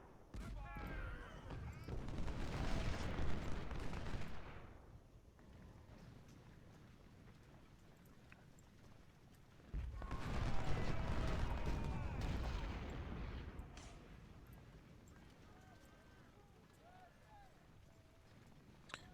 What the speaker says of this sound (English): Just gonna wait for this howitzer to fire.